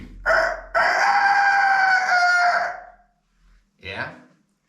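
A long, loud rooster-like crow from someone, a voice imitating a cockerel, holds for about two seconds after a short opening call and is followed by a brief fainter call.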